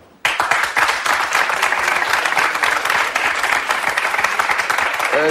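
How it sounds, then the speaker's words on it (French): Studio audience on a French television show bursts into loud, sustained applause after a sudden start, dense steady clapping filling the room for several seconds. "Ceux qui pensent que Jennifer doit perdre du poids, vous applaudissez maintenant"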